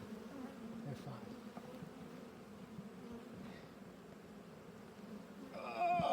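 Honeybees buzzing around an opened hive during beekeeping, a low, continuous swarm hum heard fairly faintly in the background, with a sharper sound rising near the end.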